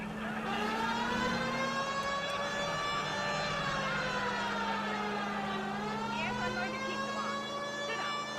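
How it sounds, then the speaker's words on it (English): Police car siren in the L.A. Noire video game, a steady wailing tone that rises and falls, holding at moderate loudness throughout with engine noise beneath. "I feel more comfortable with the siren on."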